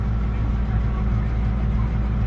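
A tractor engine idles steadily in cold weather, a close, continuous low rumble with a regular throb and no breaks or changes in pitch.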